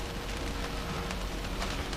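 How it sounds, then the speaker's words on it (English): Steady rain falling outside a catamaran cabin, a faint, even hiss of drops on surfaces with scattered taps, no talking. "Still raining outside."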